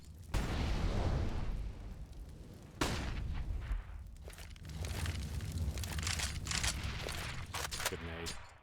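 An HE grenade explodes in a Counter-Strike match on Dust 2: a sharp blast followed by crackling gunfire and chaotic game noise, heard under excited commentary voices.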